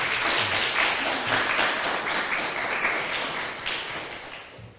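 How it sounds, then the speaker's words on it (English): Conference audience applauds after an academic session on narrative pantomime, a steady wash of many hands clapping at a moderate distance, slowly tapering off. "we can applaud perhaps."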